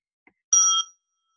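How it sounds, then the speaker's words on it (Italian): A single bell rung once to mark the end of a speaker's allotted time at an online talk, a short bright ringing tone that sounds alone after a faint click. "Questo era il campanello."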